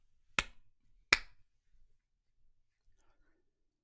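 Two sharp, bright hand claps about three-quarters of a second apart, close and loud against near silence, during a live 3D-modeling stream.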